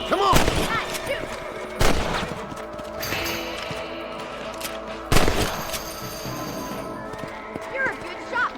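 Rifle shots aimed at rabbits in the Western game Red Dead Redemption, with three sharp cracks separated by quieter stretches, over background hoofbeats and ambient noise while someone talks.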